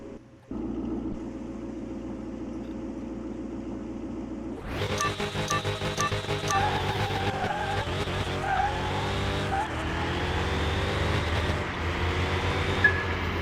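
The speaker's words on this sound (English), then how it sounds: "I over-revved it in third." A tuned 1300 hp car in Car Mechanic Simulator 2021 idles with a low steady drone, then launches hard into a loud screaming rev that climbs through several gear shifts with tire squeal, alone without talk.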